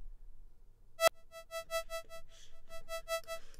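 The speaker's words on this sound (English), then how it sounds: "So you can hear the delay on the onset of the envelope." A synthesizer note from a Massive software synth with a delayed envelope onset sounds as a sharp click, then a bright harmonic tone that swells in and pulses rhythmically for about two and a half seconds.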